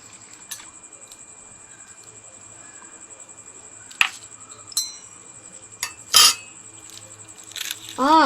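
A knife cuts open a suspected plastic egg, giving a few sharp, close clicks and cracks spaced over several seconds, with a crackly scrape near the end against a quiet background.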